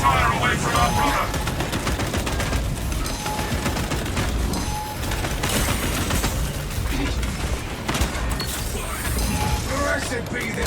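Tactical auto bolt rifle fire in a Destiny-style shooter, loud rapid mechanical bursts with clanking action noises and combat effects, under intermittent in-game voice lines.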